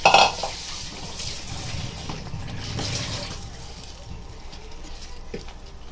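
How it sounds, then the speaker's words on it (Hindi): Black urad dal is added to a pot of masala and stirred in, with a clatter at the start, then soft scraping and shuffling of the lentils for several seconds. "अभी देखो, ये उड़द डालेंगे और पूरा मिक्स करेंगे"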